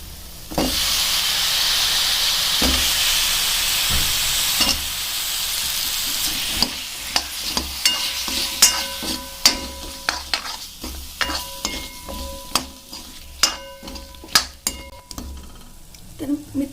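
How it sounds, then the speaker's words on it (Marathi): Cut potatoes tossed into fried spice masala for a soybean potato bhaji sizzle steadily, followed by repeated sharp scraping clinks of a spoon stirring against the pan. "आता मी याच्यामध्ये जे बटाटे आपण कट केलेले होते ते सुद्धा मी आता याच्यामध्ये ॲड करते"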